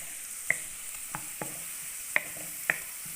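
Onions brown in a pan for dal mash, a faint, steady sizzle broken by several sharp scraping strokes of a spoon spaced irregularly, close by.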